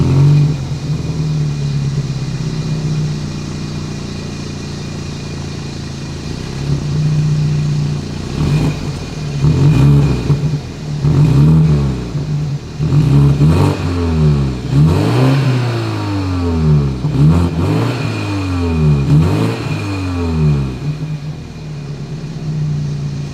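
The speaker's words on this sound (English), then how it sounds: "As always, here is that exhaust clip." Exhaust of a 2021 BMW X3 compact SUV revving repeatedly from idle, a steady low drone broken by a series of sharp throttle blips that rise and fall, loud and close with no talking.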